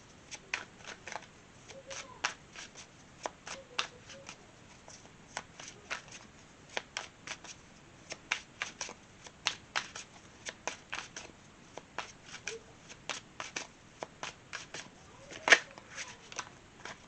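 A tarot card deck is shuffled over and over, a long run of crisp riffling flicks and snaps at an uneven rhythm, close and fairly quiet.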